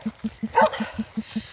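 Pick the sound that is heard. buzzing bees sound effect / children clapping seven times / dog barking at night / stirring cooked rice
dog barking at night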